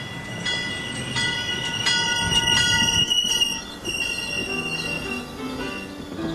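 A train rolls past a pedestrian walkway in a wooded town, loud and close, with rumbling wheels and high metallic squeals rising and falling along the cars; no voices.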